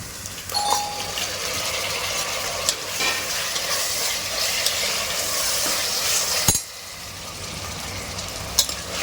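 Mutton sizzles and crackles steadily in a hot pan, with occasional clinks and stirring sounds.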